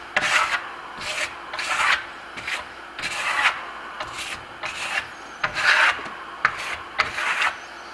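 A steel trowel scrapes Bernini and Grasello earth-tone plaster across a wall in a series of about a dozen rhythmic, rasping strokes, close and fairly loud, with no talking.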